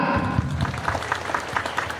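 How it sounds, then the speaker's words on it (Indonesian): Audience applause after a Rudat dance performance at SMK Al Huda Bumiayu's new-student welcome, a steady dense clapping wash with crowd noise throughout, fairly loud and continuous. "Tepuk tangan sekali lagi untuk mereka"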